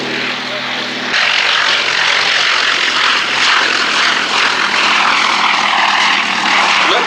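A 1930s Gloster Gladiator biplane with a Bristol Mercury radial engine flies past at an air show, its loud propeller drone swelling after a second and holding steady as a broad roar.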